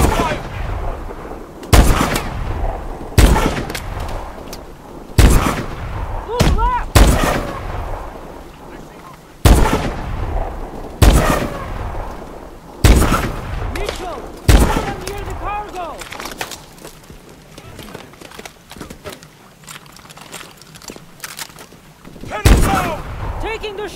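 Sharp, loud bursts of gunfire from the Call of Duty: Advanced Warfare video game crack in irregular volleys, mixed with shouted in-game dialogue.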